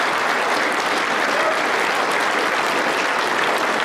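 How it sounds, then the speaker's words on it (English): A crowd at an American Farm Bureau gathering gives a state president loud, dense applause that stays steady and continuous throughout. "I want you to give your state president a big round of applause."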